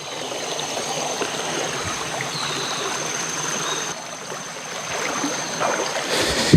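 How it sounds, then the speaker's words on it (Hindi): A small waterfall stream in a hill village of Abujhmad flows with a steady, moderate rush and trickle of water that continues evenly without pause, with no voices. "ये साल भर बहता है ये झरना।"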